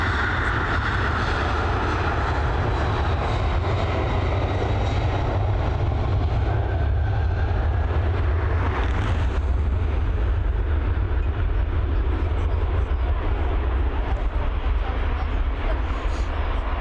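A Boeing 737 jet departing Dublin Airport, bound for Lanzarote, roars as one continuous heavy rumble. Strong low-frequency thunder swells slightly midway and stays dense and loud throughout.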